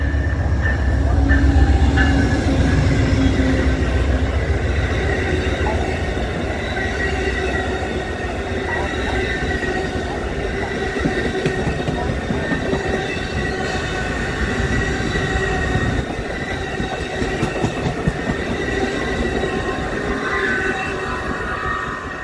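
SunRail commuter train in Sanford, Florida, rolling past with a heritage-painted locomotive leading, a steady loud rumble of wheels and rail noise with some squealing, sustained throughout without talk.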